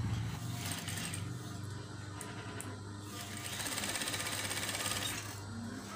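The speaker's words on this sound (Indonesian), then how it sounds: "Ini tengah-tengah kita jahit." Sewing machine running steadily while stitching a green fabric face mask, a continuous close, loud mechanical whirring and rapid needle clatter that lasts throughout.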